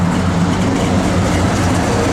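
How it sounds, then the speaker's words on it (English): 1957 Chevrolet 210 V8 engine running and revving, a loud, steady, close low rumble with a continuous throaty roar and no pauses. "Give it a little rev, Dale. It's got great sound."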